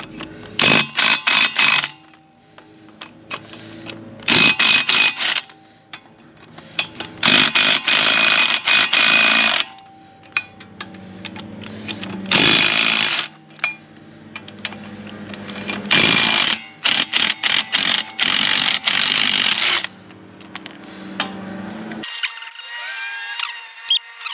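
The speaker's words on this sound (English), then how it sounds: "This is the old Craftsman battery, the old Craftsman Ugga Dugga gun." An old Craftsman battery impact wrench removes wheel nuts from a car at a tire machine. It fires in repeated loud, rattling bursts of hammering, each lasting a second or two, with short pauses between them.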